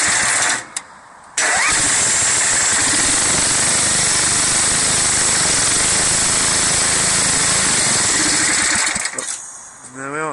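A ride-on mower's small engine, fitted with a makeshift starter motor, cranks briefly, catches and roars loudly at close range, running steadily for several seconds before cutting out.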